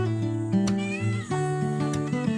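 A cat meows while being served Whiskas cat food at a campsite in Bulacan, several drawn-out, tonal cries close to the mic over a steady background hum.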